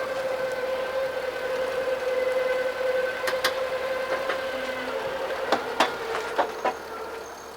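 A slide-out on a 24-foot diesel Winnebago Sprinter extends, driven by a steady electric motor whine with the diesel engine idling underneath and a few sharp clicks and knocks near the end.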